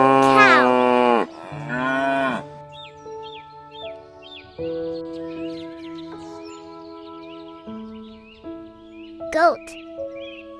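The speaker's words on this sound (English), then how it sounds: "cow," A cow gives two long, loud, deep moos close by, followed by soft music with birdlike chirps.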